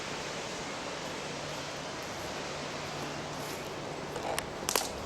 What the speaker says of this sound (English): That little waterfall right there, or whatever you'd call that.